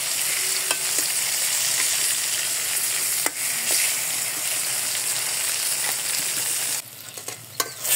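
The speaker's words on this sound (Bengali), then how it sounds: "আমার বেগুন ভাজিটা প্রায় হয়ে গেছে ভাজা" Seasoned eggplant slices fry in oil in a pan in a home kitchen, a steady close sizzle with occasional spatula clicks, and it thins out near the end as pieces are turned or lifted.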